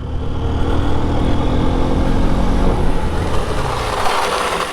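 A Bajaj Pulsar P150 or Honda Unicorn commuter motorcycle brakes hard during a braking test, with a loud, steady engine and road roar throughout that eases slightly toward the end as the bike slows.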